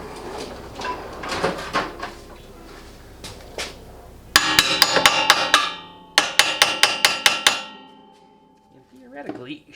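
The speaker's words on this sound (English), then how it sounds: "you put the wedge in here, and then you just give that little taps" A hammer gives quick light taps to a steel wedge while a Ford Focus RS engine is being removed. There are two sharp bursts of about six metallic strikes each, loud and close, with no talking.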